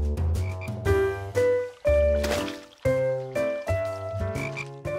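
Cartoon frogs croak in a bathtub in a steady run of loud, close, musical croaks, some rising and falling in pitch, with short gaps between bursts and no talking.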